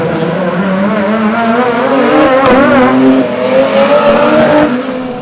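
Race cars including a Nissan GTR battling for the lead in a feature race at the Waimate 50 motorsport festival, engines revving loudly and rising in pitch as cars pass close by, with a brief dip and renewed surge.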